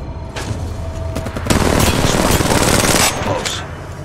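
Rapid automatic gunfire in the mobile battle royale shooter Apex Legends Mobile, likely from an R99 submachine gun, sputters in bursts and then swells into a sustained, loud volley of fast shots lasting a couple of seconds before tapering off.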